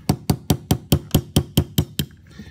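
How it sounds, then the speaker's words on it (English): A brass hammer strikes a punch to drive a pin out of a stainless steel Ruger American striker guide assembly: nine sharp, evenly spaced metallic knocks, close and fairly loud, with no voices. "knock that pin completely out"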